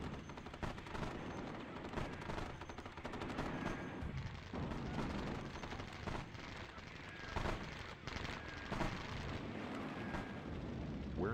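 Continuous video-game battle din with dense gunfire, machine-gun bursts and booming artillery blasts, loud and unbroken throughout, with game voice callouts mixed in.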